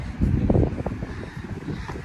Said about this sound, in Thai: แต่มีลมแบบเย็นๆหนาวๆหน่อย